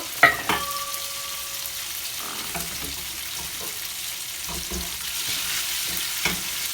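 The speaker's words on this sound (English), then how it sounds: "I'll get some sizzling. Okay, put it back. Back on the fire. Add the rest of the tofu." Tofu sizzles and crackles in a hot pan, a soft steady fry with a few clinks and scrapes of a utensil.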